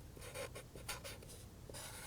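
A pen writes a treatment plan by hand, giving quiet, close scratchy strokes in short bursts, faint against a soft room background.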